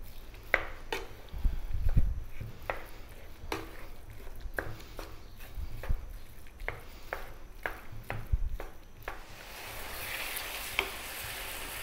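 Minced beef tossed in a frying pan over above-medium heat, with repeated sharp clanks and scrapes of the utensil against the pan over a soft sizzle, loud and close.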